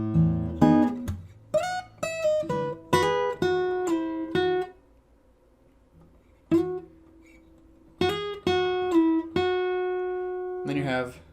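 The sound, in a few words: acoustic guitar playing measure 57 of a piece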